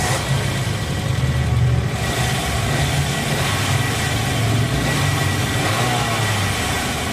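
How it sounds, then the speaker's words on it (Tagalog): A Toyota Corolla engine, after oil seal and timing belt replacement, restarts and runs steadily at a low rumble, close by, with a brief rise in intensity early on before settling into an even idle. "start ko ulit yan."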